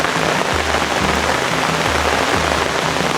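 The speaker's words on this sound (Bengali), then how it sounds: "প্রচণ্ড বৃষ্টি" Heavy rain pours steadily across a rubber plantation in Santoshpur, Mymensingh, a dense, loud, unbroken hiss of drops striking leaves and ground, with low rumbling underneath and no voices.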